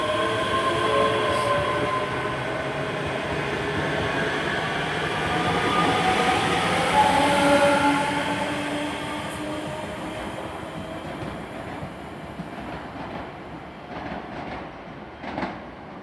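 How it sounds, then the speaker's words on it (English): ScotRail Class 385 electric train departing Haymarket station for Glasgow Queen Street, heard as a loud, steady rumble of wheels and rolling stock that swells in the middle, then eases off with a few clicks near the end. "385 122 departing out for Glasgow Queen Street, 1037 departure."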